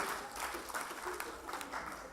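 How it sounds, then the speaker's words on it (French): Comedy club audience applauding a performer, a moderate wash of clapping that sounds a little distant and blends with room noise. "maximum d'applaudissements pour lui"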